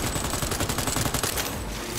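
Rapid automatic gunfire from a firearm in the video game Cyberpunk 2077, a dense, loud burst of shots fired in quick succession for about two seconds with no talk over it.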